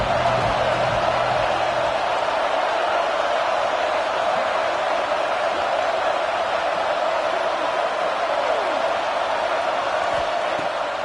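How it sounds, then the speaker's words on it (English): Steady broadband roar of a stadium crowd in the NCAA 26 college football video game, loud and continuous throughout with no distinct cheers standing out. "This crowd bringing the energy and noise early."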